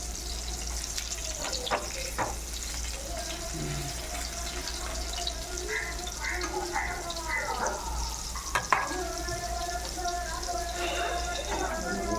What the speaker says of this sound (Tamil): நல்லா 2 சைடும் திருப்பி போட்டு வேக வைங்க